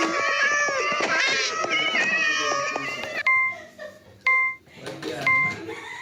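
Several cats meow and yowl over one another, loud and overlapping, before fading into quieter scattered sounds with a few short electronic beeps.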